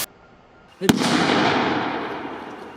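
A sharp launch crack, then a loud Exploder 4 firework burst booms and rumbles, its crackling hiss slowly fading over a couple of seconds.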